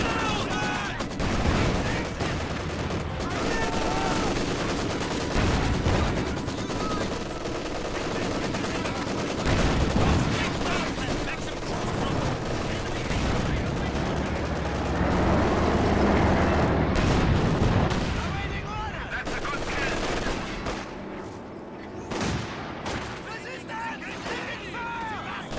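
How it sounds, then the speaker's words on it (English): Mortar rounds and rifle grenades firing in a World War II strategy video game, a dense, loud run of blasts and gunfire cracking over a steady battle din, easing off near the end while a voice talks alongside. "that mortar plus rifle nade combo"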